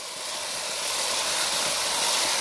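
Marinated chicken dropped into hot fried masala for a country chicken curry gives a broad, steady sizzling hiss that swells slightly and holds close and loud throughout.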